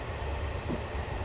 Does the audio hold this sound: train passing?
yes